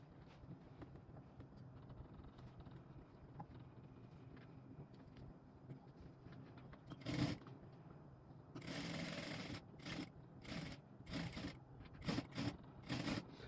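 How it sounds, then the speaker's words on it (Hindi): A sewing machine stitches a blouse in short, loud bursts of rapid whirring, separated by brief pauses, over a steady low background hum. "अब देखो इस पे इसको सिलाई करना है"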